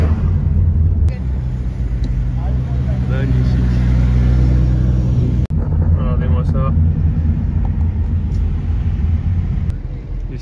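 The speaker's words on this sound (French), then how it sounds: "On croise que des supercars ici." Supercars driving past during Pebble Beach Car Week, a loud continuous low engine rumble with passing vehicles, heard under crowd chatter and talk throughout.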